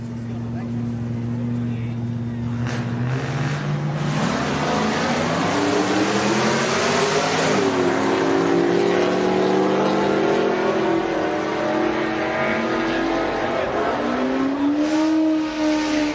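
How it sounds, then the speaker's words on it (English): A Mini Cooper drives past on a street during a Friday night car meet, its engine rising and falling as it approaches and goes by, loud and close, with people talking throughout. "A Mini Cooper."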